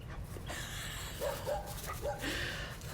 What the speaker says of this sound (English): Oh, there goes my dog.